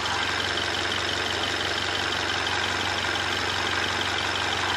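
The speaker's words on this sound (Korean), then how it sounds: "이제 바로 엔진 소리 한번 들려드릴게요" A Mercedes-Benz E-Class coupe idles with its engine bay open, giving a steady, even rumble with a continuous broadband hiss that holds level throughout, close to the microphone and with no one speaking.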